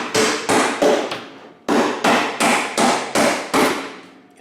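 Hammer blows knock a panel out of an old broken dresser, a loud, close series of about ten sharp whacks in two bursts, each strike ringing briefly before the next.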